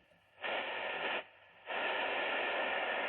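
Sailor 1000 marine radio receiver tuned to empty-band static: two bursts of hissing noise, a short one then a longer steady one, separated by a brief quiet gap.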